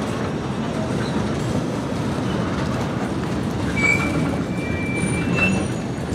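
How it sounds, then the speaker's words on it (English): A CSX freight train led by locomotive 5426 rumbles steadily past on the rails, with rolling wheel noise and faint metallic squeals rising now and then. "Here comes the end of this portion of the train."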